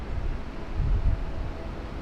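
Gusty wind buffets an outdoor microphone at a day-ticket carp lake in spring, a steady low rumble that swells into stronger gusts near the middle before settling back to a constant roar.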